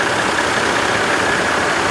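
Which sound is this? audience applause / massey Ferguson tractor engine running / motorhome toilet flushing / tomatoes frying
massey Ferguson tractor engine running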